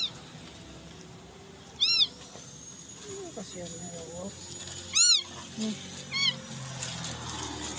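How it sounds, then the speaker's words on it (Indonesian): An abandoned baby kitten, found in a cardboard box at a garbage dump, lets out thin, high cries in several separate bursts while a person talks nearby over faint background noise. "Kucing teriak."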